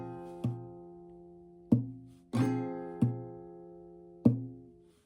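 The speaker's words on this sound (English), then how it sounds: "you're tapping the body of your guitar with your fingers" Acoustic guitar with percussive strums and finger taps on the guitar body, five sharp hits spaced unevenly, each followed by ringing chords that decay, close and clear.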